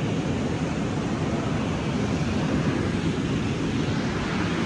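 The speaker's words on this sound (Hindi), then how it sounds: "देखो पानी का शोर चेक करें, तेज चल रहा है पानी।" Fast-flowing river water near Naran rushes in a loud, steady roar, a dense continuous wash with no pauses or voices.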